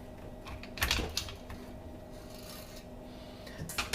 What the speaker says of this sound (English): Now all we need to do is go ahead and open action up here. Take out our spring.